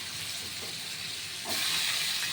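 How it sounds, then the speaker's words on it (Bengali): Potatoes fry in hot oil in a pan for a Bengali jackfruit curry. A soft, steady sizzle swells midway into a louder, brighter hiss. "আমি আলু দিয়ে দিলাম ছেড়ে আলুটা কিন্তু লাল করে ভাজা হবে"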